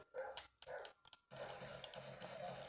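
A dog barks in the video game GTA 5, a few sharp close barks in quick succession followed by a low, sustained growling rumble, all fairly faint.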